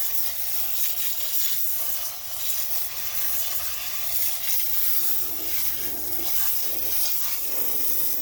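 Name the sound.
water rinsing out rock tumbler barrel with amethyst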